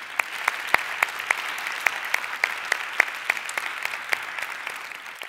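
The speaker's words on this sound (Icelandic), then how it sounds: "Mér langar bara til að byrja að klappa ótrúlega mikið fyrir konur sem voru í panelnum áðan" Audience applause for the women of a panel, with sparse, distinct individual claps popping out over a softer steady clapping bed, moderately loud and close.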